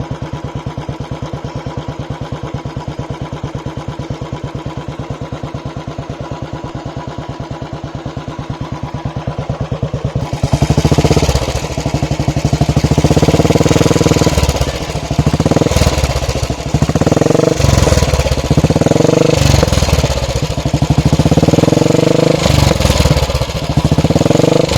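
Royal Enfield Classic 350 single-cylinder motorcycle with a Barrel SCUD aftermarket silencer: a steady, even idle thump that turns much louder and deeper, with repeated throttle blips and revs close by.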